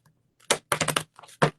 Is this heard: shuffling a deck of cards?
yes